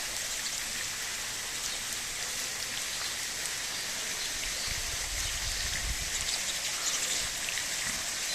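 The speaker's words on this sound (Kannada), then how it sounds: "ಮಡಿಕೇರಿ ರಸ್ತೆ ನೋಡಿರಿ ನೀರು ಹರಿತಾ ಉಂಟು" Water rushing over the Madikeri road behind a temple at Bhagamandala in heavy flow, a steady, loud, unbroken wash of noise with a deeper surge midway and no voices.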